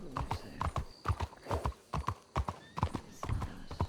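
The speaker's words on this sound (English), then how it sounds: "You know, there's always a horse right there." Horse hooves clip-clop steadily in a video game, a run of evenly spaced, moderately loud hoof strikes with an occasional faint whinny in the background.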